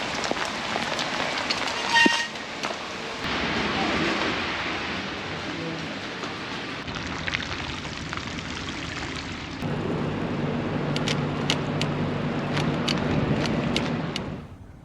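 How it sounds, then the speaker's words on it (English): Steady rain hisses across an outdoor road near Bari, Italy, a broad continuous wash that swells louder partway through, with a few faint sharp ticks near the end. "it's starting to rain"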